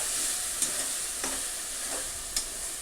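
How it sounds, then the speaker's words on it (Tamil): Tomato and masala fry in oil over medium heat, making a steady, close sizzle with a few soft stirring scrapes and taps. "மீடியம் ஹீட்டில் ஃப்ரை பண்ணிக்கோங்க"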